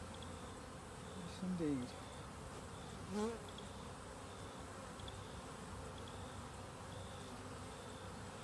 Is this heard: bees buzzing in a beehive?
yes